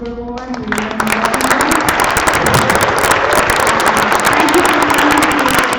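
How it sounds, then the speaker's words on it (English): A conference audience bursts into loud, sustained applause that swells and keeps going, preceded by a brief spoken voice at the start. "I want to give a round of applause to this superwoman."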